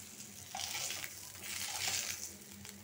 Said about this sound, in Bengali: আমি উলট পালট করে দুনো পাশ একদম লাল করে ভাজা নিচ্ছি